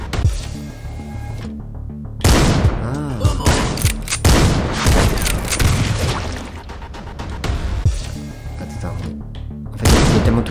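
Explosions and bursts of gunfire in the video game Panic Factory, loud booms and rapid shots stacking over each other, with someone talking excitedly over the chaos.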